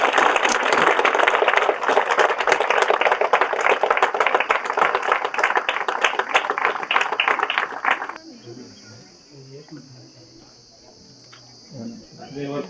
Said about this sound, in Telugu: అందరు గట్టిగా చప్పట్లు కట్టండి.